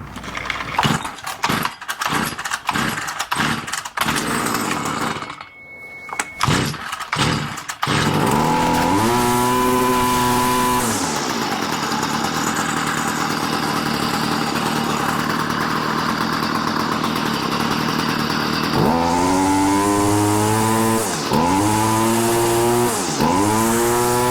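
Stihl FS45 string trimmer with the choke on, pull-started: several sharp rapid cord pulls and sputters, then the small two-stroke engine catches and runs loud and steady, revving up and down a few times.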